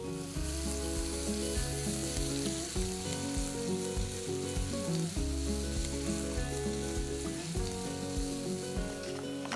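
Spices roast in hot oil in a pan for an Indian coastal curry, a continuous close sizzle with stirring scrapes and clinks, no talking.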